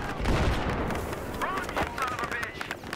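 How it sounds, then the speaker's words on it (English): Gunfire rattles close by in a Battlefield military shooter, dense continuous shots with booms layered over battlefield noise, and a voice talks faintly underneath. "They're shooting really close to me."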